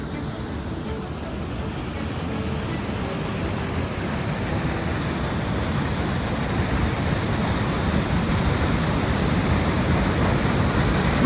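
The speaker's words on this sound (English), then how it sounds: "We probably spent an hour at this waterfall on this day, just watching the water flowing through the canyon." A steady, broad roar of rushing water fills the space, constant and dense like a waterfall pouring through a canyon after heavy rain, with a faint voice beneath.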